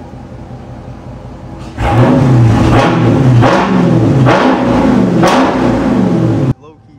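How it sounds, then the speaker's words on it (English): An SRT car's engine revs hard inside a tunnel, several loud rising roars in quick succession that echo off the walls. It is preceded by a quieter idle and cut off abruptly, with voices nearby. "Give y'all a couple revs, bro."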